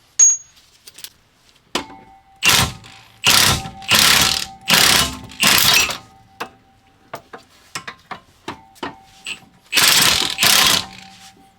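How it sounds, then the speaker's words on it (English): A ratchet wrench working a bottom brake caliper bolt loose on an Audi B5 S4 rear brake: repeated short bursts of clicking ratcheting, close and fairly loud, with scattered small metallic ticks between them. "We'll get the bottom bolt out now."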